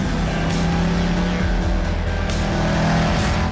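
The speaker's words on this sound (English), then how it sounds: "This is a Dodge Challenger that I've just bought." A Dodge Challenger drives close by with a loud, steady engine roar and rumbling tone that shifts slightly in pitch as it moves.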